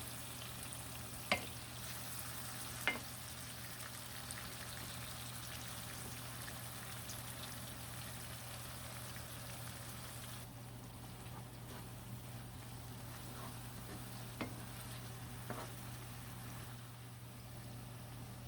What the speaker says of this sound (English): I'm just going to cook this up until the tomato and the onions are a little softer